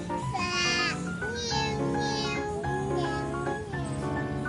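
A child imitates a cat's meow, drawing out a run of several high, wavering mewing calls back to back, loud and close, with no other talk.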